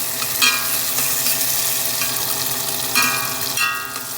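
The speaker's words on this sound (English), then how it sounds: "So you just want to simmer this and stir this up a little bit." A simmering pot of food is stirred by hand, with soft repeated scraping and bubbling over a steady low background, a couple of louder stirring strokes standing out.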